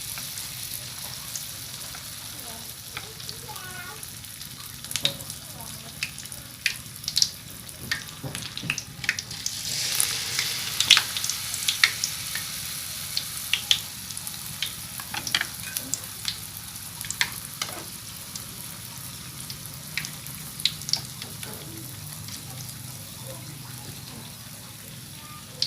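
Lotus petals deep-frying in hot oil, a steady close sizzle with crackling pops and bursts throughout, busiest in the middle, no voices.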